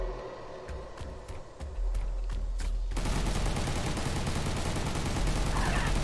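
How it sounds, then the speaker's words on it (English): Machine gun fire in the Furry Apocalypse video game demo, first as spaced single shots over a quieter bed, then a dense, loud continuous burst of rapid rounds with music, with no talk. "Okay, so it's a machine gun."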